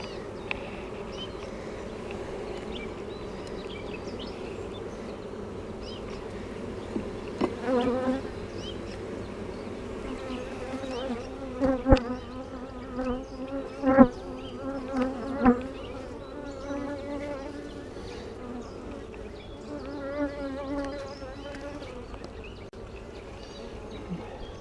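Honey bees buzz continuously around an open hive during an inspection, a close, steady drone with occasional sharper bumps and clicks of handling in the middle.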